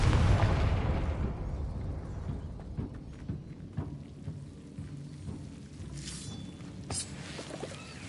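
A Confringo blasting spell in Hogwarts Legacy goes off as a heavy rumbling explosion that decays into a low, crackling roll, with a few sharp bright hits later.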